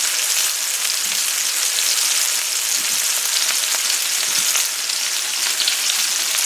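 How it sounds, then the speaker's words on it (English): Chicken pieces searing in a hot pan give a loud, dense, continuous sizzle with crackling spatter, heard up close and alone. "I just want to get a nice sear here."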